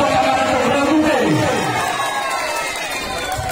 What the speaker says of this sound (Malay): Boleh tepuk tangan untuk Rebu B.